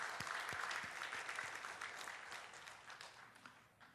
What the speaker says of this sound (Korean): 여러분 박수로 격려해 주시기를 바랍니다